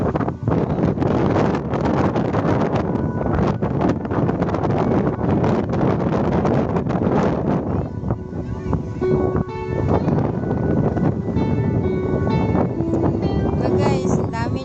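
Strong wind buffets the microphone outdoors, a steady loud roar with gusty rumble throughout, easing slightly midway before building again.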